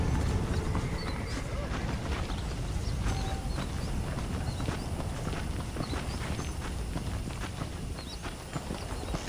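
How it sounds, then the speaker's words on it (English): Horse hooves clip-clop steadily on the ground in the Red Dead Redemption video game, a continuous rhythmic walking gait under a busy ambient background. "The horses are saddled up over here."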